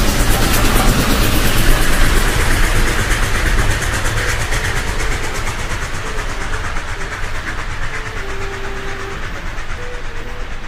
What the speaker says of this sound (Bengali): ট্রেনে সবাই পুরী যাচ্ছে।